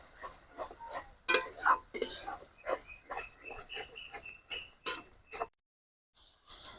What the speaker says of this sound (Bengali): আর দিয়ে দেবো অল্প একটু সর্ষে বাটা। দিয়ে আবারও এটা কিছুক্ষণ কষাতে থাকবো।